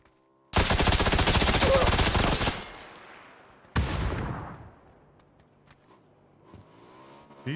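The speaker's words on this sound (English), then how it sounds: "Someone just naded themselves over there." A grenade goes off in an online solo battle game, a loud broadband blast lasting about two seconds, followed by a second sharper burst and a fading rumble.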